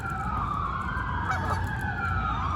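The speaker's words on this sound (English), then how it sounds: "There go the geese." Geese honk repeatedly as they fly over, loud and close, while a police car siren wails along the road in the background.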